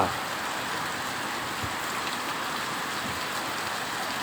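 Steady night rain pours down in a dense, even hiss, with drops pattering on hard surfaces nearby and a faint rumble of traffic underneath.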